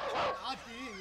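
During a Valli Thirumanam stage drama performed near Karaikudi, a performer imitates a dog with a short burst of vocal barks and yips. The imitation ends in a whimpering, wavering tone, all close and clear.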